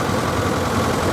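A vintage Nuffield tractor engine runs steadily at a show arena, a short burst of continuous mid-to-low rumble with no clear changes in pace.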